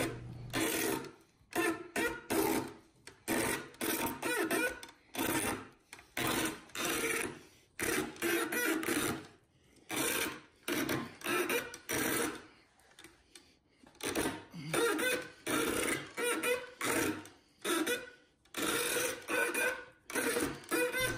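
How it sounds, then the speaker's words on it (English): A hand saw cuts threads into a large-diameter wooden dowel with knots near the top, making steady back-and-forth rasping strokes in a regular rhythm, with a few short pauses between runs. "I'm going to flip it around and keep cutting and try to cut all the way through the top"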